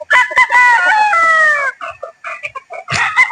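Broodstag roosters in a pen: one loud, close, drawn-out crow is followed by shorter clucks and a second crow beginning at the end.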